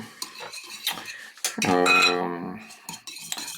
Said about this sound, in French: Voilà, on mélange un peu.